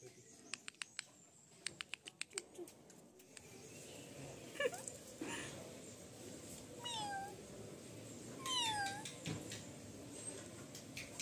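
Several small kittens meow in faint, high, wavering cries at a hill temple in Sikkim. Early light tapping sounds and a low background hum run under the calls, with faint voices nearby.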